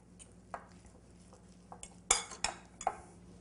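Spoon clinking and scraping in a bowl as garlic powder is stirred into a chicken mixture, a few sharp metallic taps and scrapes at moderate distance over a quiet background.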